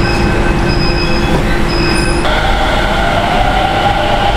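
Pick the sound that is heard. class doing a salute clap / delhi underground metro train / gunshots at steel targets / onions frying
delhi underground metro train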